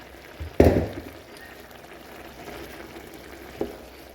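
Shrimp and mushroom rice boiling in a covered pot, a low bubbling simmer with a sharp clatter near the start and a smaller knock later, fairly quiet otherwise.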